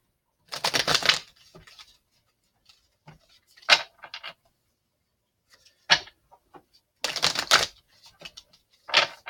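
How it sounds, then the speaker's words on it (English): Oracle cards being shuffled by hand, producing several short bursts of crisp riffling and snapping separated by near-silent pauses, close and fairly quiet. "we'll shuffle the sacred traveler"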